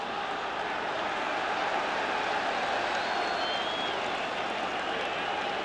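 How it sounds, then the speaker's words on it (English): Sarcastic applause from a football crowd at a Rangers v Hearts match, a steady dense wash of clapping from many people, with a commentator talking over it. "Dave McPherson comes across with a bit of applause, sarcastic applause."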